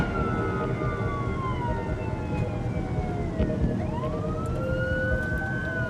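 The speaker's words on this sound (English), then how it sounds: "We are coming as quickly as we can on blue lights and sirens" A wailing ambulance siren rises and falls over steady traffic rumble, its pitch sweeping up and down as it moves past.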